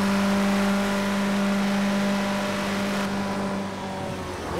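Steady turbocharged engine drone of a small four-wheel-drive Ford RS200 with 400 hp, driven in the Project CARS 2 racing game on the Nordschleife, holding an even tone before easing off slightly near the end, with no voices.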